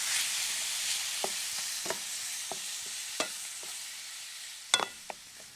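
Extra lean hamburger browns in a pan seasoned with salt and garlic powder, giving a soft steady sizzle broken by a scatter of sharp scraping stirs, close and fairly quiet.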